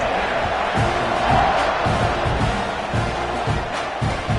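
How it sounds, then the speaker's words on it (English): A football stadium crowd buzzes after a touchdown in a KML versus Notre Dame game, a dense, steady roar of many voices with rhythmic thumps and chanting pulses throughout, loud and continuous. "this crowd is buzzing after that last score"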